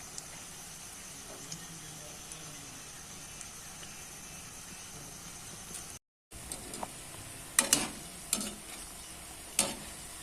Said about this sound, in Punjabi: ਪਕੌੜਿਆਂ ਨੂੰ ਲੋ ਫਲੇਮ ਤੇ ਪਕਾਵਾਂਗੇ ਤਾਂ ਕਿ ਪਕੌੜੇ ਜਲ ਨਾ